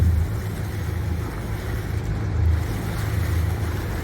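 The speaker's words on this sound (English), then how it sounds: "both the engines are in tick over reverse to keep us in this position" The twin engines of a sailboat tick over in reverse at idle, giving a steady low rumble mixed with wind and water wash, with no voices.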